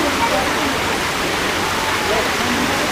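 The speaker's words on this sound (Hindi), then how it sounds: "यहाँ पे देखो कितनी खूबसूरती से वाटरफॉल बह रहा है, पानी एकदम से पत्थरों के बीच में से निकल रहा है" A waterfall in a Delhi park pours between rocks, giving a loud, continuous broadband rush of water that fills the whole clip without a break.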